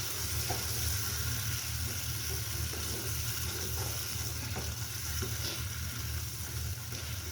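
Mushroom masala paste frying in a pan, a steady soft sizzle with occasional stirring scrapes, close but quiet, no talking.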